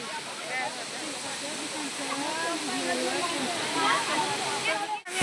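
Steady rushing hiss of a waterfall pouring heavy, cold water during a family outing, filling the whole clip, with several people talking and calling over the roar.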